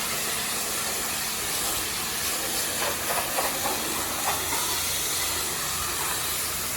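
High-pressure water from a hose sprays steadily inside a mud-caked truck trailer during washing, a continuous loud hiss with slight splashy surges midway, no voices.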